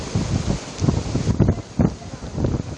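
Strong typhoon wind from Super Typhoon Pepito buffets the microphone in Catarman, Northern Samar, with heavy surf nearby, a loud continuous roar swelling in gusts throughout.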